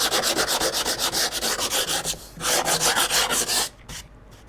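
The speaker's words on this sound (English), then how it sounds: "now I'm going to go over some hand sanding" Hand sanding a wooden cornhole board, steady rhythmic back-and-forth strokes of sandpaper rubbing on wood, close and loud, with a brief pause midway and a tapering finish.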